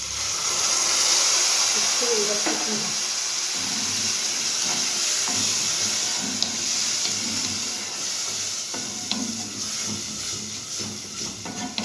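Water poured into a pan of toasted vermicelli, giving a steady steamy hiss and sizzle that runs throughout while someone talks over it.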